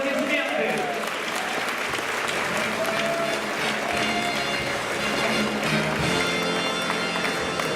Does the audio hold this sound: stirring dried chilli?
no